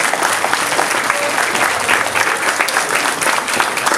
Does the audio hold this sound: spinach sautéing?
no